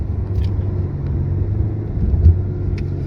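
Interior rumble of a tuned 2017 Chevrolet Camaro with a turbo four-cylinder, a steady low engine drone under acceleration with a brief thump around a hard gear shift.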